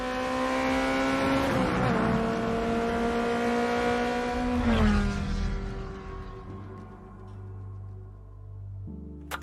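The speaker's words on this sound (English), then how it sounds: "Every tire squeal, every engine, lap after lap." Loud racing car engines in Forza Motorsport roar and rev continuously, pitch sweeping up and down as gears shift, with tires squealing along the way before the revs drop at the end.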